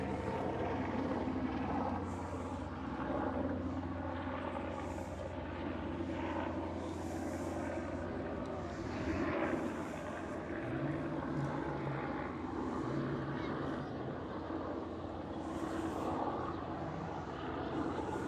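A propeller aircraft, a French Colibri training plane, drones steadily through the whole stretch at an air show, a continuous engine hum with no pauses, faint and mixed with crowd ambience.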